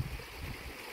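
A big waterfall, Loowit Falls at Mount Saint Helens, rushes as a steady, distant wash of broadband noise that runs unbroken through the moment, with no voices over it.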